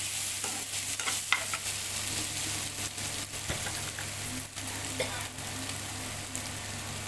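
Potatoes for a crispy low-oil fry are stirred in a pan with chilli powder: a continuous sizzle broken by repeated spoon scrapes and clicks against the pan, close and fairly loud, with no talking.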